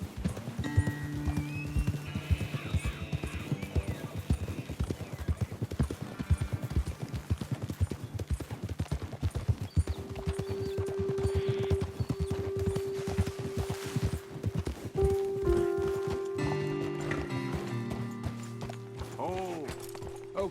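Horses in Red Dead Redemption 2 clip-clop steadily on the ground with rhythmic hoofbeats, broken by several neighs and whinnies, set under game music and background sound.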